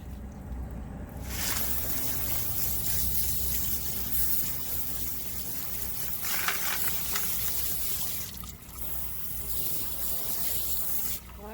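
Water runs steadily from a tap as tumbled calligraphy stones are rinsed and scrubbed with soap, a continuous rushing splash with brief breaks and shifts in flow.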